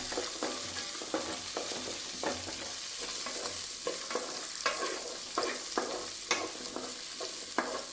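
Small shallots sautéing in a pan with ginger and garlic, a steady sizzle broken by regular scraping stirs of a spoon, close and fairly quiet, no talking.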